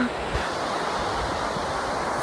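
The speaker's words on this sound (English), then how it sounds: "Oh my god, this is one awesome waterfall." Steady, loud roar of rushing water close by from a waterfall in the Peruvian countryside between Cajamarca and Celendín, a continuous wash of broadband noise with no break.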